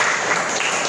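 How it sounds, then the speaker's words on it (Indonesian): Applause from a group during an Indonesian classroom-style lesson, a dense steady patter of clapping that holds for under a second at fairly even loudness. "Kita beri tepuk tangan dulu Mbak Ailen."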